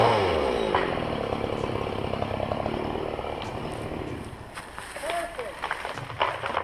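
A chainsaw cuts trees while a crew works, its engine droning steadily before fading, with a voice speaking over it.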